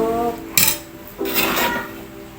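A spoon clinks and scrapes against a glass while stirring a turmeric and kencur herbal mixture, two short bursts of ringing taps separated by a pause, close and clear.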